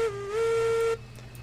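A locomotive whistle sounds in the Railroads Online train game, one steady loud tone held for about a second, then cutting off and leaving the low rumble of the engine running beneath it.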